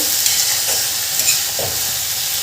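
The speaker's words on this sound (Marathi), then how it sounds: "याला छान आपल्याला हे असं परतून घ्यायचं आहे." Radish leaf bhaji with onion, tomato and spices is sautéed in a pan, giving a steady close sizzle with soft, irregular stirring scrapes throughout and no talking.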